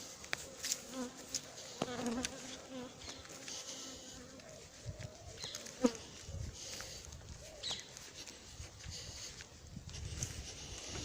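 Honeybees of a queenless colony buzzing around their hive at Montgeron, a continuous close drone of many wings with individual bees passing near, over faint background noises.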